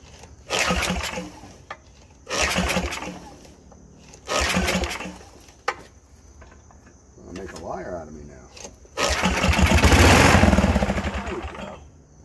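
Riding mower engine being cranked with the choke: several loud bursts of starter cranking separated by pauses, ending in a longer sustained run as it catches briefly.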